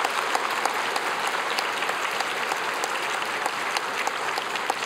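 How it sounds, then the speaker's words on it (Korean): A church congregation at a Sunday evening service claps together, a loud, dense and sustained round of applause that fills the whole space evenly from start to finish. "우리 모두가 뜨거운 축하와 격려의 박수를 한번 올려드렸으면 좋겠습니다."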